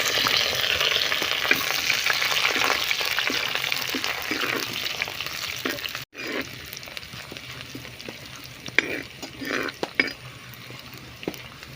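Shallots, dried red chillies and curry leaves crackling in hot oil with fenugreek already in the pan, a loud continuous sizzle with spatula clatter and a brief break midway, faint background voices.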